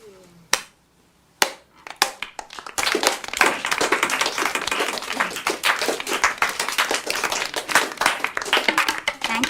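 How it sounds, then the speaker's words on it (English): An audience at a talk on film claps for Mrs. Moretto: a few isolated claps, then a full, dense round of applause that carries on to the end. "let's give Mrs. Moretto our thanks and a round of applause"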